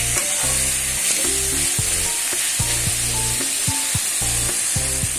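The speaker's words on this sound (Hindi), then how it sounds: "इन दोनों को मिला के मैं इसे भूनूंगी।" Grated ginger and garlic paste fry in a pan, producing a loud, continuous close sizzle with repeated rhythmic knocks of stirring against the pan, and no voices.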